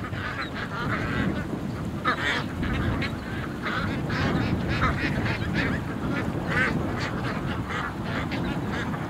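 More than a thousand ducks pour out of a pen in strong wind, a dense, continuous din of overlapping quacks and honks from a large flock, close and loud throughout.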